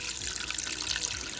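Water pours steadily into an empty cooking pot, a close, continuous splashing rush with no talking.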